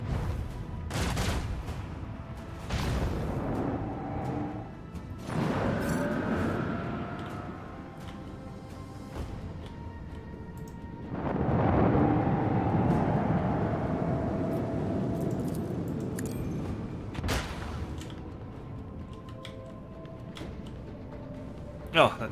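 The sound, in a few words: torpedo attack in the video game Rogue Trader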